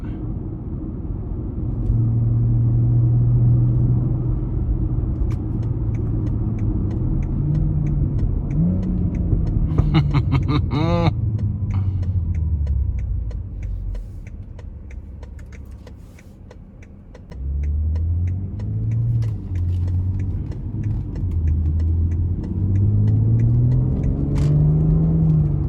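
A 2019 BMW X3 M40i drives on the road, its engine a loud, steady low rumble that rises and falls with acceleration, briefly easing off mid-drive before pulling strongly again, with faint cabin clicks and no talk.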